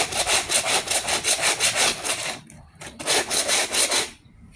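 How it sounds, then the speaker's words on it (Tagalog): Laundry scrubbed by hand, with a steady run of rapid rough rubbing strokes, a brief pause, then another burst of brisk scrubbing close by. "may dumi na kailangan kuskusin ko talaga yan"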